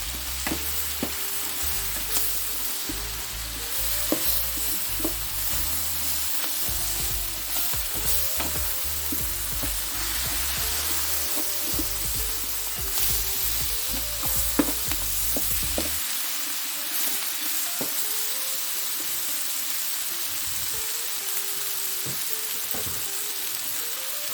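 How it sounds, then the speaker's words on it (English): Seafood fried rice is stirred in a frying pan, a continuous sizzle with repeated scraping knocks of the utensil, the low rumble underneath dropping away partway through. "So I'm going to mix everything together."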